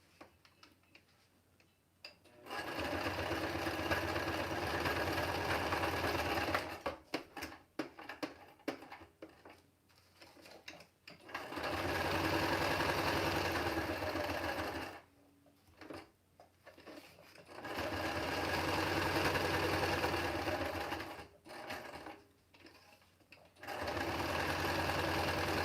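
A sewing machine stitches mixed media cards in several bursts of rapid, close ticking and whirring. Short quiet pauses fall between the bursts as the card is repositioned.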